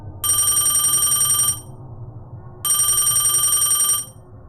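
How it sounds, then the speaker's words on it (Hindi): A telephone rings twice, each loud bright electronic trill lasting over a second with a pause between, in a quiet room lit by candles. "फोन बज उठा।"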